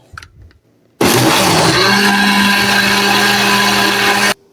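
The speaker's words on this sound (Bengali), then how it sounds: "আবার আমি এটি ভালো করে ব্লেন্ড করে নিব।" A kitchen blender whirs loudly and steadily for about three seconds while it blends a lentil and rice batter with added yeast, then abruptly stops.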